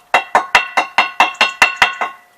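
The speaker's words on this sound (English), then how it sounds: "just give it a slight tap of the chisel to the." A chisel is struck repeatedly against an old Victorian wheel, giving nine sharp, ringing metallic taps in an even rhythm, each with a short bright decay, loud and close with no talk.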